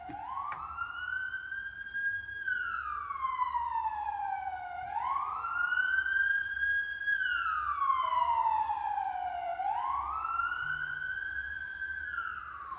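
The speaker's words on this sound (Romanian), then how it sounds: "Așteptăm să treacă salvarea ca să nu luăm turnul greșit." An ambulance siren wails in slow rising and falling cycles, moderately distant and steady, heard outdoors in Iași-area streets while a concert audience waits, with low background rumble and no talk.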